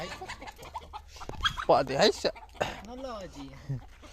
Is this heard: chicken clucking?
yes